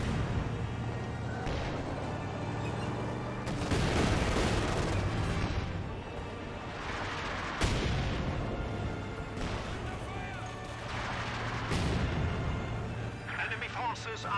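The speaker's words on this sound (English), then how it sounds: "Scott getting a barrage on the Grenadiers" An artillery barrage falls on Grenadiers in Company of Heroes 2, with several heavy booming impacts and explosions spaced through a constant rattle of battlefield gunfire, while a voice keeps talking over the din.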